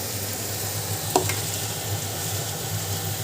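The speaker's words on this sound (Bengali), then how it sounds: "হচ্ছে কাতলা মাছ রান্না হচ্ছে এখনো" Katla fish curry cooking in a pan, giving a steady soft sizzle with a low hum underneath and one brief clink of a utensil partway through.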